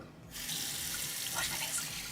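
Water gushes from a bathroom sink tap for face washing, beginning abruptly and then pouring in a steady, close, hissing stream.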